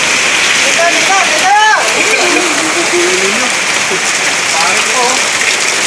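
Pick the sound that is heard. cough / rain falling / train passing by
rain falling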